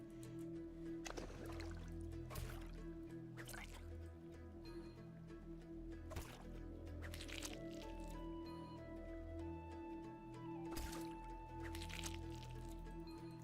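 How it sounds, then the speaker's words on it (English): Soft wet squishing and dripping sounds from fishing and foraging in the Brighter Shores video game, repeating at intervals over steady, quiet game music. "There's like a weird squishy noise whenever you get a fish or whenever you do like a foraging thing."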